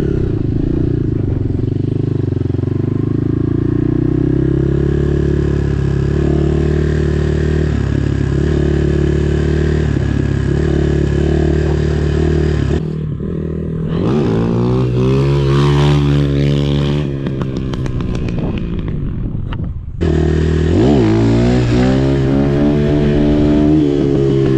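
Chinese RFZ 250 motorcycle engine idling steadily up close, then revved hard twice, with rising and falling throttle blips before settling back to a loud, rumbling idle.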